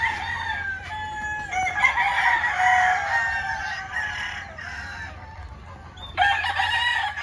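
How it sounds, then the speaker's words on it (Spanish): Roosters crow loudly and close by, several long overlapping cock-a-doodle-doos one after another, with a low steady hum underneath. "Aquí está un, un pollo de los Alban y de Larry Romero."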